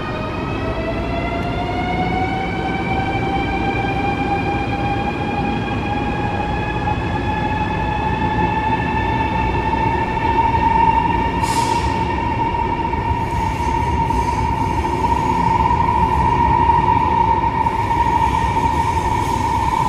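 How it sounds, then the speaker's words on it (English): A Chinese high-speed train pulls away from a station with a loud, sustained electric whine that rises steadily in pitch over a constant rumbling roar. "let's experience the scene of a Chinese high-speed train departing the station. The sound is amazing."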